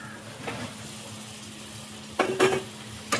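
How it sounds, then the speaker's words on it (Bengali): Fried pointed gourd pieces tipped into a sizzling spice mix in a pan: a soft hiss, then a few sharp clattering bursts of vegetables dropping in and being stirred, close by. "এবার আমি এই ভেজে রাখা পটলগুলো দিয়ে দেবো"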